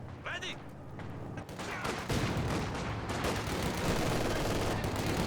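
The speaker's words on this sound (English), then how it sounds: "d0ggY going into a machine gun now." Machine gun fire in Company of Heroes 2, sustained bursts of rapid shots mixed with other battlefield gunfire, with a commentator talking over it.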